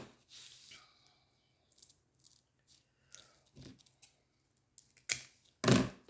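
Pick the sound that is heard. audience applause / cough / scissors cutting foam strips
scissors cutting foam strips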